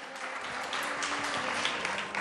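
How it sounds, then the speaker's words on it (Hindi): Studio audience applause on a live early-morning Ramadan sehri show, a steady wash of clapping at moderate level through the short clip. "आप लोगों की तालियों में दम नहीं है"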